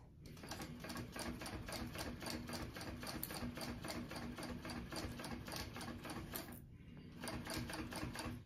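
A sewing machine top stitches a crossbody bag at a 1/8 inch seam allowance, running steadily with rapid, even needle clatter close up for several seconds, pausing briefly before restarting.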